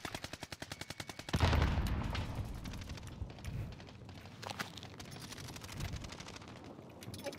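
KSP 45 burst-fire gunfire in a shooter video game, a fast rhythmic string of close sharp shots at the start, then a loud blast and scattered further shots over rumbling background noise.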